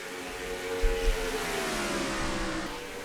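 Race cars in an oval racing game roar steadily at high revs, a dense sustained engine drone with pitch shifting as cars run through the turns, loud and continuous.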